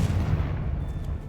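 Spell blasts erupt in the video game Hogwarts Legacy, a heavy, rumbling burst of booming impacts sustained loudly throughout with no voices over it.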